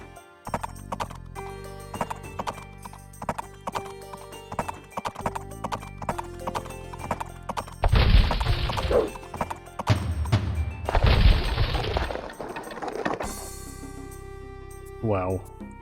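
Heavy horse archers in Age of Empires move with rapid clip-clopping hooves and a couple of loud horse whinnies, crisp game sound effects standing alone.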